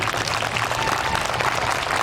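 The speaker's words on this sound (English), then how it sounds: "So can we do a big round of applause for them?" Steady, dense applause fills a hall at a 2021 high school senior awards ceremony, many hands clapping continuously at an even, moderately loud level.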